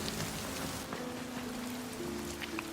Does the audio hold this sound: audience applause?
no